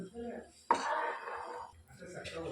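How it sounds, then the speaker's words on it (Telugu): Dal being stirred in a cooking pot for Hyderabadi khatti dal: a sudden scrape of the spoon against metal, then about a second of steady scraping and swishing, with a faint voice just before and a softer clink near the end. "ఇలా బాయిల్ వచ్చేంత వరకు ఇలా మధ్య మధ్యలో మిక్స్ చేస్తూ ఉంటే అడగంటకుండా ఉంటుంది"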